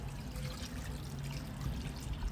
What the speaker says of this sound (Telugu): 5 నిమిషాల తర్వాత పులుసు పోసుకోవాలి.